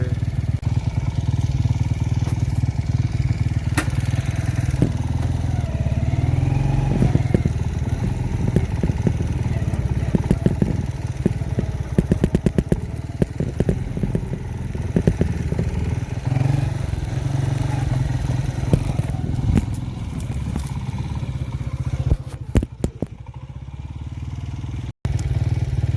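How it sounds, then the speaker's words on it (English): A motorcycle engine rumbles steadily up close, with rattling and clattering bumps as it rides over uneven ground. "Hardly you can drive a motorcycle on it."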